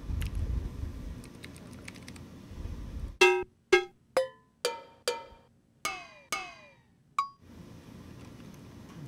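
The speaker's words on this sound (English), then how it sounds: "Tiny cowbell, sounds good." A tiny cowbell sample for dubstep sound design rings out in about eight sharp, decaying metallic hits with short pitch-bending tails, spaced fairly evenly and played alone between stretches of dense background noise.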